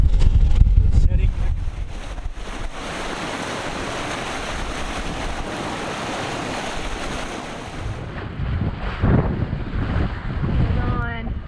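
Wind and waves while sailing about 30 degrees into the wind at 5 knots in the Grenadines, with broad rushing wind noise buffeting the microphone and water washing against the hull, loud and continuous.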